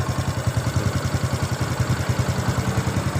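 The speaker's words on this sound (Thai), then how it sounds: "อันนี้เสียงเครื่องครับ" A Honda Wave 125 motorcycle engine idles close by with a steady, rapid thumping pulse and a faint mechanical clatter, running alone without any talking.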